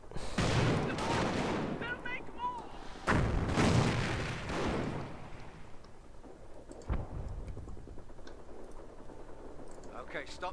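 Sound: artillery and gunfire in the video game Company of Heroes

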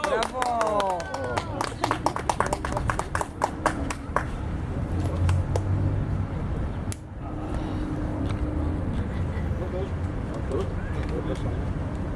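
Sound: crowd applause at a flag day ceremony

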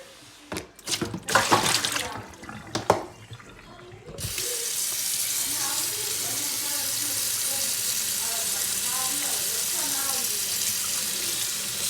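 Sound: running tap water getting hotter

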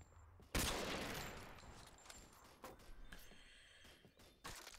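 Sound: gunfire from a suppressed rifle in the video game S.T.A.L.K.E.R. Call of Pripyat

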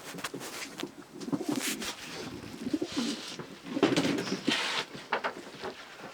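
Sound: pigeons cooing

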